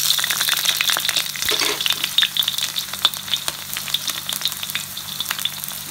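Sliced onion and curry leaves crackle and sizzle in hot oil in a pan for fried Maggi noodles with chicken, a loud close bubbling fry with sharp popping spatters throughout.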